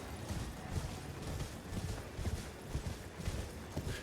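Horse hooves clopping at a steady riding pace in Elden Ring: Shadow of the Erdtree, a continuous rhythmic patter at moderate volume over ambient game sound, with no talk.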